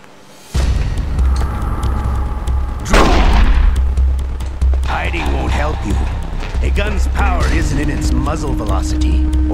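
Revolver shots and booming gunfire in Metal Gear Solid The Twin Snakes on the GameCube, a loud blast followed by further reports over steady low rumble and game music, with voices and effects mixed in.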